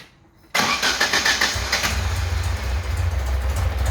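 A 1972 Alfa Romeo Giulia 1300 Junior engine cranks after a couple of pedal pumps and fires abruptly into a loud, close, rough running idle.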